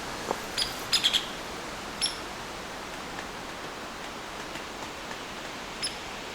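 Several thin, high chickadee alarm calls sound in quick succession near the start, then single calls around two and six seconds, over steady faint outdoor hiss on a hike, with no talking.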